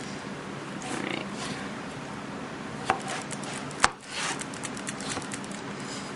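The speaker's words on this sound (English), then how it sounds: "I will probably cut them into tiny cubes." A knife chops food into tiny cubes in a home kitchen, giving irregular light taps and a couple of sharper knocks against a cutting board over a steady background hum.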